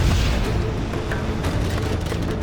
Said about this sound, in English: Think you know how to use that artillery platform, son?